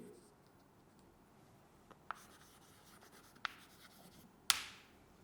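Chalk or marker strokes on a classroom board during a French grammar lesson, a few faint scratches ending in one sharper stroke, quiet and isolated over low room noise.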